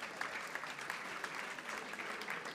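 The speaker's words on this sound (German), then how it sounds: "natürlich dann zu einem Applaus für Anne Gilzer" A game-show audience at the 200th episode of a German beer-betting show applauds Anne Gilzer with steady, even clapping from many hands throughout, heard at a distance.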